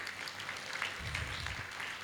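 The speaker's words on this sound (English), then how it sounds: "Can we have huge round of applause" An audience at a business excellence awards ceremony breaks into applause, a soft, even spread of clapping that swells slightly after the first second and continues steadily.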